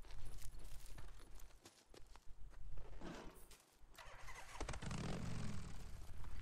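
A motorcycle in the video game Days Gone starts up amid shuffling and clatter, its engine catching midway and settling into a low, steady idle that rumbles loudly to the end.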